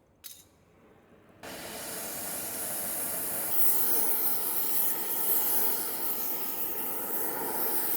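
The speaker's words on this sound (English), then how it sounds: "I'll heat it up real hot with the oxy" Oxy torch heating metal on the track of a Canadian Ram Kangaroo in a workshop: a steady, loud roaring hiss starts abruptly after a brief quiet moment and holds on without a break.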